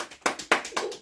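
A few distinct hand claps from an audience at a Passover teaching gathering, sparse and irregular, fairly near and moderately loud.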